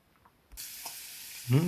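Pork fat (salo) hits a hot pan and starts sizzling with a sudden loud hiss that holds steady, and a brief louder crackle flares near the end.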